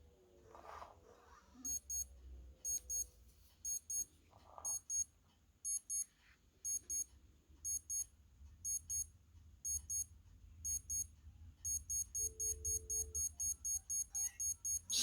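Sharp, high digital beeps from a Timex Marathon watch alarm sound in quick clusters, spaced at first then speeding into a rapid continuous run, over faint background noise and brief quiet murmurs.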